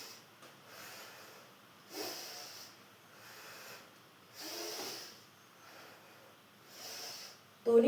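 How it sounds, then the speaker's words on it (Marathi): Breath is pushed out during a postpartum belly-fat exercise routine, with several soft, close exhalations coming at a regular pace and separated by quiet pauses. "श्वास सोडत"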